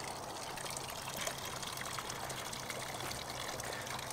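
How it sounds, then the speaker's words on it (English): Spring water runs steadily out through a PVC pipe slipped over black pipe, making a constant, even splashing rush that is faint but fills the whole clip without pause. "we can see a little bit better how much flow is coming out of the spring, and it's all getting collected and run through"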